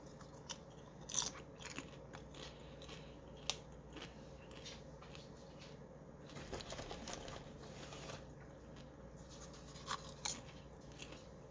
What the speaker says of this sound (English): I know some people hate chewing and stuff in videos.